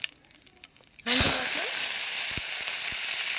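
Mustard seeds and cumin dropped into hot oil for a fish curry burst into a sudden loud, steady sizzle after a quiet second, with a few sharp pops crackling through the hiss.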